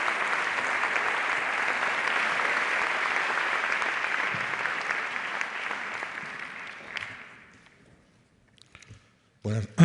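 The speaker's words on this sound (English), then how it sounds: "Your applause, please, for Enrique Vila-Matas with The Modesty." An audience at a literary festival night in Brussels applauds an author, dense clapping that holds for several seconds, thins out and fades to near silence, followed by a brief shuffle or cough.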